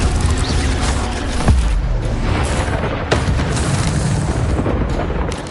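Incendio fire spell blasts in Hogwarts Legacy during a fight with giant spiders, amid a dense, loud wash of combat noise with sharp booming bursts standing out twice.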